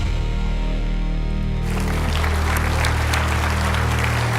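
Audience applause breaks out at a flight sim expo as Thrustmaster walks on stage, loud dense clapping that swells in after a brief low hum and carries on steadily.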